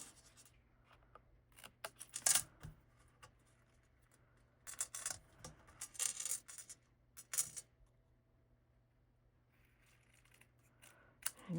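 Scissors fussy-cut around a stamped paper card in short bursts of crisp snipping and rustling, quiet and close, separated by brief silent pauses.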